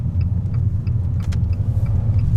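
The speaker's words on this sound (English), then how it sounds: "Oh, listen to that exhaust." An Abarth 595 Competizione's exhaust while driving around a roundabout, a steady low engine rumble close by with slight surges of revving and faint ticking on top, no voices.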